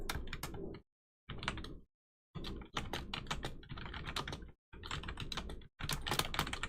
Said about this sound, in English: I'm just gonna type it in the chat.